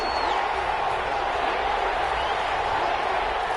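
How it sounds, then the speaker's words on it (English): Stadium crowd at an NFL game, Arizona at New Orleans, swells into a steady roar of cheering ahead of a big third down, continuous and dense throughout with no break. "the crowd getting into it as we come up on a big 3rd down"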